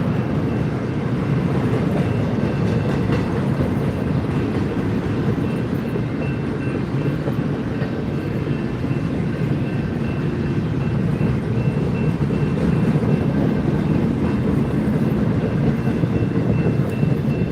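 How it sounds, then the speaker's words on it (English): A train passes on the Transcon railway as a loud, steady, close rumble that holds without a break for the whole stretch. "this is our third train"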